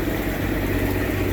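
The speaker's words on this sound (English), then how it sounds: "you have to excuse the fan" A constant low whirring drone fills the space, like a fan running steadily nearby, loud and unchanging with no voices.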